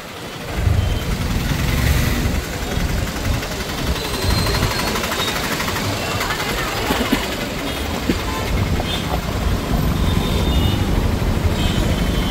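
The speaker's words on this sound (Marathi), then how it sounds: "वन वे असा बघा ह्या ट्रॅफिक." Busy one-way road traffic heard from a motorbike on the Konkan to Mumbai route, a continuous loud rumble of engines and tyres with passing vehicles blending into a steady roar.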